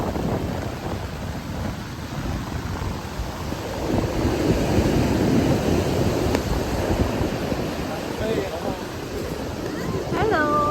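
Ocean waves at Panambur beach roll in as a steady broad wash of surf, loud and continuous with some wind rumble on the microphone, and people talking faintly in the background.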